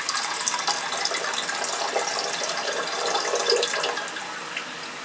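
Urea solution is poured quickly into a lab vessel and stirred, giving a splashing, clinking rush of liquid with rattling glassware that tapers off toward the end, with no talking.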